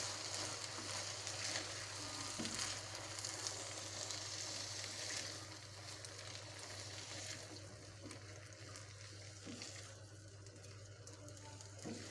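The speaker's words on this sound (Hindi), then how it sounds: "अब हम इसमें 2 टमाटर का पेस्ट जो है वो हम इसमें डाल देंगे और अच्छी तरह मिक्स कर लेंगे" Chicken fries in a pan as tomato paste is stirred in, giving a steady, close sizzle with faint stirring scrapes that gradually softens.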